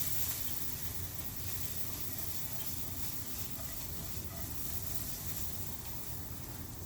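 Onions frying on a flat griddle for a cheese steak sandwich, giving a steady, even sizzle and hiss that runs unbroken throughout at moderate level.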